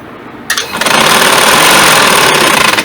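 A sewing machine runs close and loud while stitching a side pocket, starting abruptly after a brief quiet moment and holding a steady, buzzing whir to the end.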